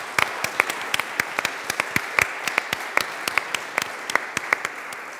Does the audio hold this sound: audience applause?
yes